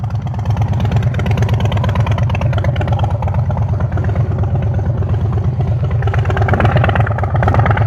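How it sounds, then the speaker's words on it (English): A 2026 Harley-Davidson Street Bob 117 with a Stage 1 setup rumbles loud and close in a steady, throbbing idle-like lope that holds unbroken throughout. "Come for a ride on the Harley."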